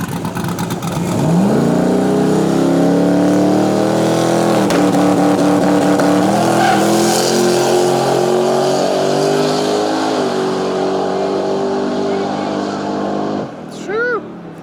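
A twin-turbo race car runs down a Main Street strip at a street racing event. The engine rises and holds loud and near, with revving gear changes, then cuts off abruptly near the end. Crowd noise sits underneath.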